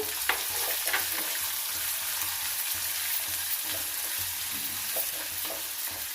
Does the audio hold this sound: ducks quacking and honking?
no